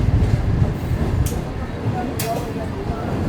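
Shalimar Express passenger train pulling into Landhi Junction railway station, heard from aboard as a dense, steady rumble of wheels and carriages with a couple of brief high hisses or squeals, no speech.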